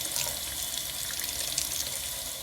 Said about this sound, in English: let that hot water run over your metal parts